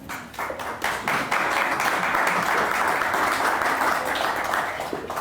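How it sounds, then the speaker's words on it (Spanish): An audience at a live health event on diabetes and glaucoma applauds, a dense, sustained burst of clapping that swells quickly and holds steady for about five seconds before easing slightly, with no speech over it. "Por favor, la recibimos con grandes aplausos."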